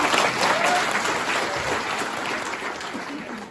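Audience at a motivational speech event claps in a dense, continuous round of applause, loud at first and tapering slightly toward the end.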